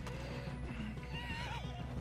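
A horse neighs in Red Dead Redemption 2, a short whinny rising over steady game ambience and low rumble, fairly close, with faint hoof clip-clop beneath.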